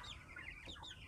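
Soft, close clucking and peeping from Rhode Island Red chicks crowded in their cage, a few short calls overlapping in a quiet, low-level background.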